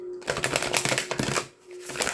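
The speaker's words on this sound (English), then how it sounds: "let's shuffle the cards" A deck of tarot cards is shuffled close up in quick riffling bursts of crisp flutters and taps, with a short pause before a final burst.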